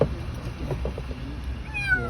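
A kitten trapped in a car engine meows faintly during its rescue, a few thin cries rising over a low background hum.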